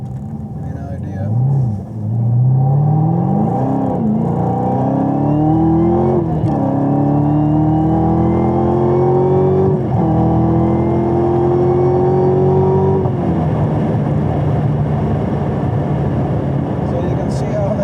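A sports car, either a Corvette C8 or a Camaro ZL1, accelerates hard from inside the cabin, its engine note climbing through several gear changes with loud, close revving and a steady rumble underneath.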